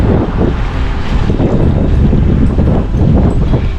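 Strong, cold mountain wind in Japan buffets the microphone with a steady, loud roar and low rumble throughout, with no talking.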